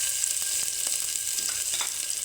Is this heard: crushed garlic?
yes